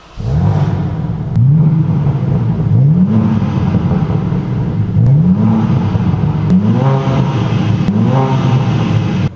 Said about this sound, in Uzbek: Endi mashinamizning ovozini eshitamiz.